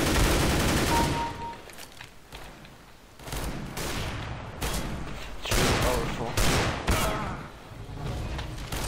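R8 Revolver pistol shots in CS:GO, including fire through a wall, heard as loud, spaced bursts of gunfire with booming reports throughout, fairly close, with some faint voice chat in the background.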